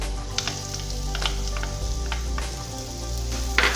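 Grated coconut frying in a pan with roasted cashews and raisins for a banana and egg dish, giving a steady, close sizzle with faint stirring scrapes and no voices.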